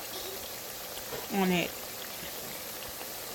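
Yam slices frying in hot oil give a steady, fine sizzle that runs throughout after cold water is sprinkled on, with a brief spoken word passing over it midway.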